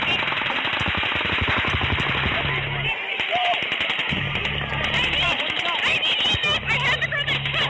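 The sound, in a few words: gunshots like machine gun fire on 911 call recording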